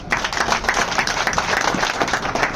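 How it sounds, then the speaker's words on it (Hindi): An audience applauds at a gathering where demands are being presented, a dense, loud clatter of many hands clapping steadily and close throughout. "एक बार तालियां साथियों।"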